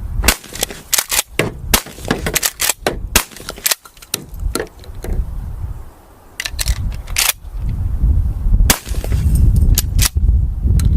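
A 12 gauge shotgun fires outdoors at small pieces of cinder block and a license plate, giving loud, sharp, close blasts mixed with rapid clicks and clacks of handling and loading.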